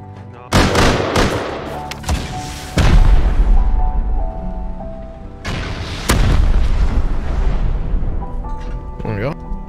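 Rockets blast in the survival video game Rust as several heavy, booming explosions land at irregular intervals, each followed by a rumbling tail and ringing tones.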